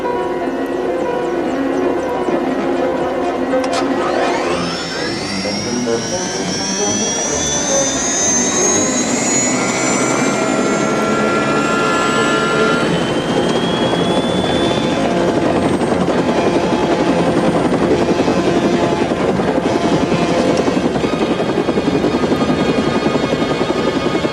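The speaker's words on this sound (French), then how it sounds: "L'hélico vient d'être détourné." A helicopter flies close overhead in a horror film, its rotor and turbine whine rising and sweeping in pitch as it passes, loud and continuous throughout with no talk.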